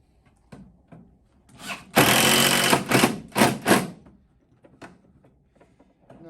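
A power driver tightens caster screws into a rolling chair base, running in several loud, close bursts of whining motor that stop and restart in short pulses, with quiet handling clicks between.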